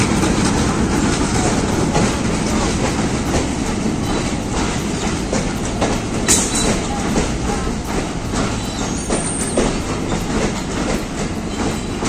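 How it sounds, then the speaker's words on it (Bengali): A train pulls out of a rural station in Bangladesh, loud and close, with continuous rumbling and rhythmic clickety-clack of wheels over the rails and a brief high squeal. "এই যে ট্রেন বাড়ায় চলে গেল"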